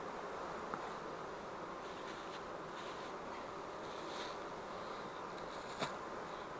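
Honey bees buzzing steadily around a hive nucleus colony during feeding with a sugar patty, a faint continuous drone close by with no talking.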